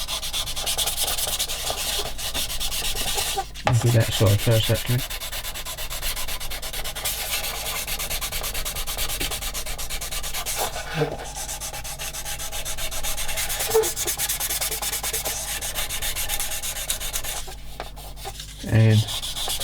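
A soft sanding stick rubs a plastic part of a 1/16 scale TAKOM M10 IIC Achilles tank destroyer kit, giving close, continuous scratchy strokes with a few brief louder scrapes. Someone speaks briefly partway through.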